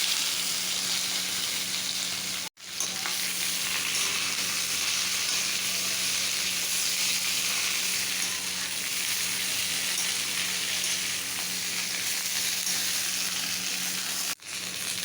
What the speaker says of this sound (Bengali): আমি তেলে সর্ষে ফোড়ন দিয়ে দিলাম। আমি সব সবজি দিয়ে দিচ্ছি এখন।